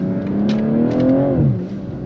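A 380-horsepower inline-six car accelerating in third gear: a loud, close engine note rising steadily in pitch as it pulls, then easing off near the end of a short run.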